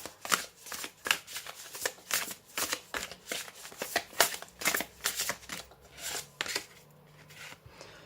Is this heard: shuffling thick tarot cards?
yes